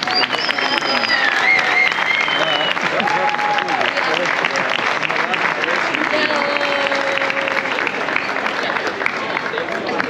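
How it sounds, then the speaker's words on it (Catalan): Loud, sustained crowd applause fills the open air at a giants festival in Palma, Mallorca, a dense steady clapping with scattered cheers and crowd noise throughout. "Un fort aplaudiment, també."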